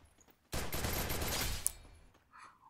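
Rapid automatic gunfire in the battle royale game Free Fire, a loud unbroken burst of shots lasting about a second and a half that then cuts off, leaving faint background sound.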